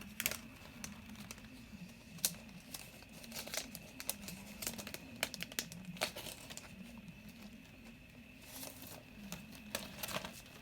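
Paper crinkles and rustles as a stationery unboxing package is opened, with irregular crisp crackles and brief tearing bursts close by, fairly quiet, with no talk.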